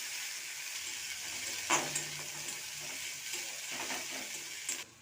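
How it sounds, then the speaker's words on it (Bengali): A paste of ground mustard, onion and whole cumin sautés in hot oil, hissing in a steady sizzle with occasional sharp pops and the scrape of a stirring spoon, close up and without talk. "এবারে বেটে রাখা মশলাটা দিয়ে কষিয়ে নেব ভালো করে"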